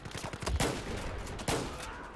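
Shotgun blasts in the video game Battlefield 4 multiplayer, several rapid booming shots mixed with other nearby gunfire, loud and close with distinct heavy reports.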